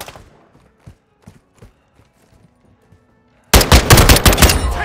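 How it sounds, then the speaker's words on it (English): Call of Duty: Modern Warfare II gunfire, with a few sparse footsteps and thuds followed by a sudden loud burst of rapid automatic fire close by. "Taking effective fire!"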